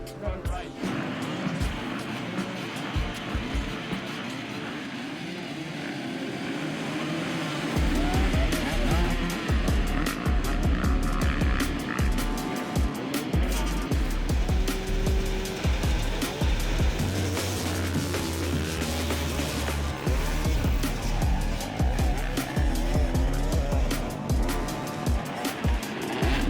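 Cars racing in a five-lap road race at a farm motorsport event, engines roaring and revving continuously with tire noise, loud and close throughout, with a voice talking over the din.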